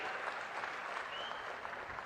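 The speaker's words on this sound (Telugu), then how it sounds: "గట్టిగా చప్పట్లు కొట్టి అభినందించండి." Faint, distant crowd applause at an outdoor political rally in Gudivada, a soft continuous patter of clapping that holds steady throughout.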